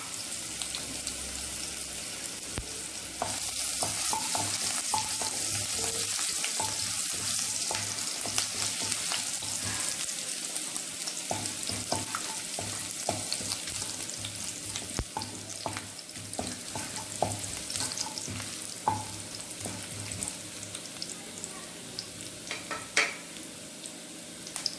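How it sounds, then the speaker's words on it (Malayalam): Chopped ginger fries in hot sunflower oil for chilli chicken, a continuous soft sizzle with occasional clinks and stirring scrapes, no talk. "നമ്മളിപ്പോൾ സൺഫ്ലവർ ഓയിൽ ഒഴിച്ച് ചൂടായിട്ടുണ്ട്. അതിനകത്തേക്ക് ഇഞ്ചി ചെറുതായിട്ട് അരിഞ്ഞിട്ട് കൊടുക്കാം."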